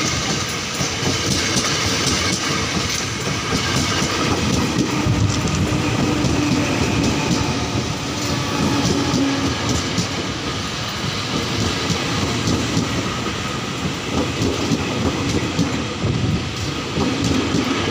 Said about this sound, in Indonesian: Saya akan ambil kereta KRL lagi.